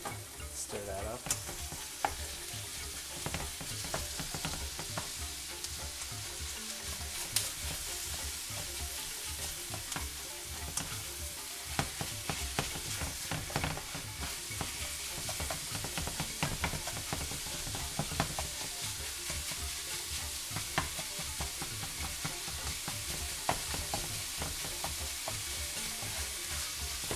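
Ground meat and browned onions frying in a pan while being stirred, a steady soft sizzle with frequent scraping and clacking spoon strokes up close, no talking.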